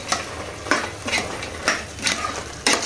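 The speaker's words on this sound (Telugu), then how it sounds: "మొత్తం అంతా బాగా కలిసేలా కలుపుకోవాలి." Mutton pieces are mixed in a pan with salt and coriander powder, producing a series of about six scraping, sizzling strokes of a spoon against the pan at a steady rhythm, close and fairly loud.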